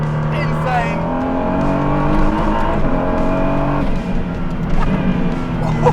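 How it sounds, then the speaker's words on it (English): A Praga hypercar's turbocharged engine at speed, heard from inside or close by as a loud, sustained droning roar with shifting pitch; people talk excitedly over it. "That turbo."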